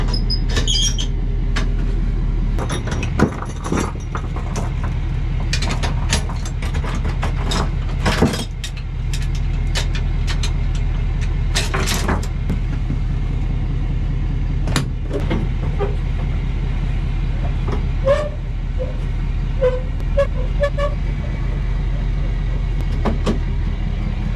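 A pickup truck towing a trailer across a farm rumbles with a steady low engine drone for over twenty seconds, punctuated by intermittent clanks, rattles and knocks from the trailer and cab.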